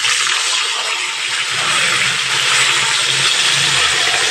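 Katla fish pieces fry crisp in hot oil, a steady, dense sizzle and hiss that runs continuously and fairly loud throughout, close up with no talking.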